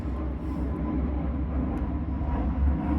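A steady, low rumbling roar of an airplane passing overhead, continuous and fairly loud throughout, with no voices.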